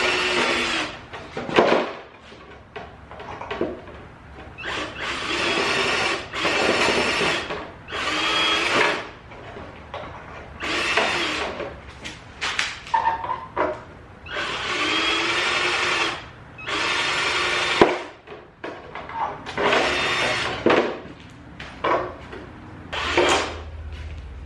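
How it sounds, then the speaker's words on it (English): A small drill bit bores into a plastic rear diffuser on a Dodge Charger in a series of short, loud whining bursts separated by brief pauses, heard close up without talk. "I just grabbed a small drill bit, so I'm just gonna drill them on in there real quick"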